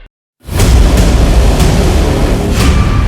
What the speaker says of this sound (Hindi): अपनी सुरक्षा को ध्यान में रखते हुए जलाए पटाखे